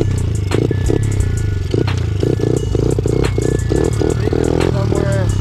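A dirt bike engine struggles to idle, chugging and sputtering unevenly with rattling, clattering bursts, loud and close throughout, with no talk.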